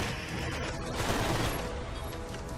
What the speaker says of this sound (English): The fireworks are going off right now.